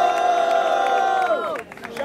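Crowd at the Batalha do Coliseu rap battle cheering and shouting, a loud continuous roar of many voices with scattered claps, briefly easing near the end before picking back up.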